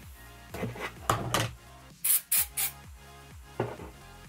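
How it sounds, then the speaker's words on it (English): Several quick spritzes from a spray bottle spraying hair, including a rapid run of three bursts, with soft rustling and handling noise between them, close up. "And I'm just gonna hold this up and then spray underneath."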